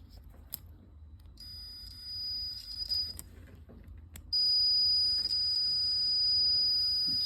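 A multimeter continuity tester beeps on the e-brake plug wiring of an FJ40 brake indicator circuit, a high steady electronic tone sounding briefly and then holding continuously and loud, with faint clicks of probes before it.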